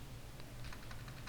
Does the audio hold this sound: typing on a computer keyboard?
yes